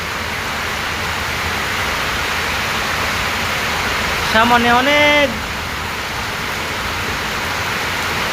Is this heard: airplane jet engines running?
no